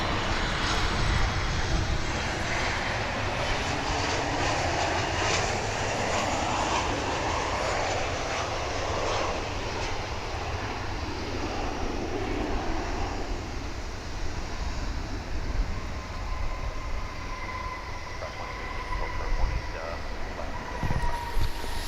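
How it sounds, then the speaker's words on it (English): A UPS Airbus A300 on arrival at DFW International Airport, a steady broad jet roar persisting throughout, with a voice speaking over it. "There's a UPS A300 coming in from Shreveport, which is also due to arrive in 5 minutes"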